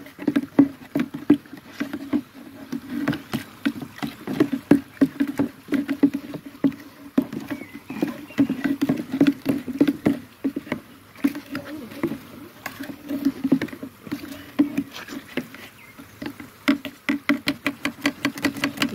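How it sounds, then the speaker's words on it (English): Blanketweed pond treatment fizzing inside a can while being stirred, a steady close crackle of tiny bubbles mixed with irregular scraping and tapping strokes of the stirrer against the metal. "it's all fizzing up inside the can, so give it a good stir"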